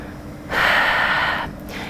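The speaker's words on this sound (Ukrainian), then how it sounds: "Робимо повний видих." A single full exhale during a gentle yoga session, a soft breathy rush of air lasting about a second, close and alone in a quiet room.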